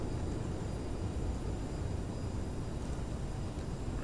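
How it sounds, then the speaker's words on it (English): Steady, loud broadband roar of a CRJ900 regional jet's engines during landing rollout with thrust reversers deployed, in a flight simulator, continuous and unbroken without any talk. "We're down, reversers armed."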